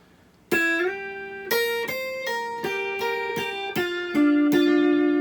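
An electric guitar plays a slow blues lick in the pentatonic scale, single notes, some bent or slid, with hammer-ons, each ringing clearly with sustain; no voices.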